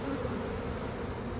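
Honeybees swarm at a tree hive in Orlando, Florida, giving a dense, steady, close buzzing hum with no talking.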